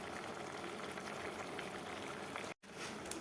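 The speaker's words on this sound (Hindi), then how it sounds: "देखो अभी उबल के बनेगी, अभी ये बनी नहीं है।" A pot of sweet potato curry seasoned with garlic and chilli bubbles steadily on the stove, a continuous close simmering hiss with one brief dropout near the end and no talking.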